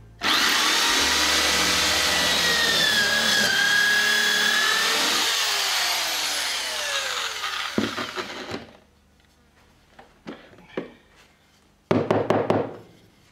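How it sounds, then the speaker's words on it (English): A power drill whines loudly and steadily up close as it bores a pocket hole into wood, then winds down; a few knocks and short buzzes of the tool follow. "you start the drill up before you get to the wood"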